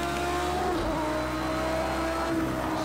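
Race car in Project CARS 2 Super Trofeo at Algarve, engine dropping off the throttle then revving hard again, a loud steady whining drone with shifting pitch and no voices.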